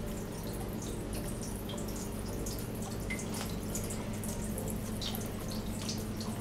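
A small indoor decorative waterfall runs beside houseplants, giving a steady trickle and patter of falling water with bright dripping splashes, continuous and fairly close, under a low room hum.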